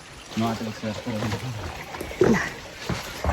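Water from a shallow stream, where people are fishing, rushes and trickles steadily throughout, partly under nearby voices talking.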